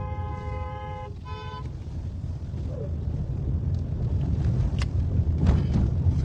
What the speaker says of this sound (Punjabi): ਹੱਥ ਰੱਖ ਹਾਰਨ ਤੇ